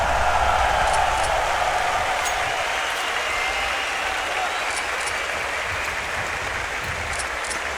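A large arena crowd roars and applauds at a CS:GO Krakow Major 2017 quarter final between Fnatic and Gambit, a loud, dense, sustained wash of cheering that fades slightly over several seconds.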